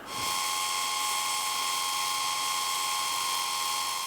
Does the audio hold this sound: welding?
yes